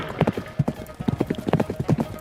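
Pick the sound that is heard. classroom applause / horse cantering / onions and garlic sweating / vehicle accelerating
horse cantering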